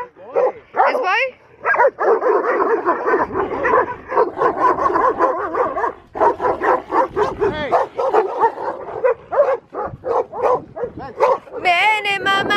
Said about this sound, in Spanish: Miren los perrotes de acá.